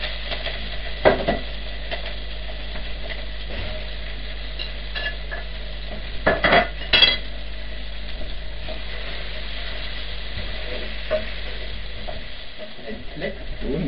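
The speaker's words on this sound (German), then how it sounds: "Und jetzt kommt das Gemüse rein." Vegetables go into a cooking pot with ribs, making a low, steady sizzle and a few clattering stirs and knocks against the pot.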